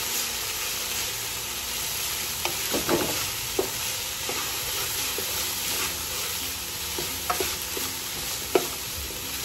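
Boiled black-eyed peas stirred in a cooking pot, a constant soft hiss of steam and frying with scattered light knocks and scrapes of the spoon against the pot, no talking.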